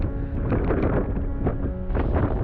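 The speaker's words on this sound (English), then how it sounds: "Back in camp, it was getting very windy," Strong wind roars steadily against the microphone at a beach camp on the Isle of Raasay, Scotland, a loud, continuous rushing rumble with gusts that swell and ease throughout.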